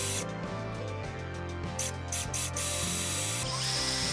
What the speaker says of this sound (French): Je perce également en biais en faisant attention de ne pas casser la mèche.